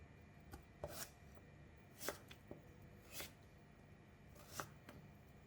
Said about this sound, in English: Then slice them into half centimeter in thickness.